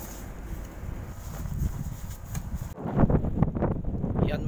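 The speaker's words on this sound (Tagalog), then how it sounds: "grabe naman yung hangin ngayon" Strong wind with falling snow buffets the microphone in loud, rumbling gusts, growing rougher and more forceful partway through, with no voices.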